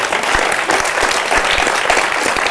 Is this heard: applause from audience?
yes